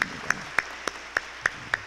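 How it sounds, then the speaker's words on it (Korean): Slow, evenly spaced single claps, about seven sharp strikes at a steady pace, in a church during a stained-glass dedication service, with faint background murmur. "박수로 환영하시기 바랍니다."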